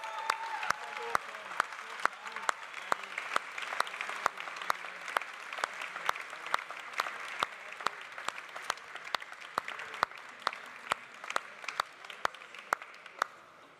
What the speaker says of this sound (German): Tausender Applaus.